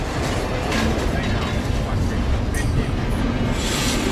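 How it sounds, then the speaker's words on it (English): The freight train known as The Beast rolls past in Mexico, a loud continuous rumble and clatter of wagons close by, moving fairly fast with steady rail noise and occasional squeals. "We've been told this train goes"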